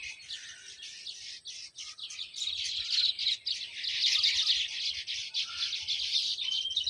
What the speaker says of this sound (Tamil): எவ்வளோ குருவி பறக்குது பாருங்கள்.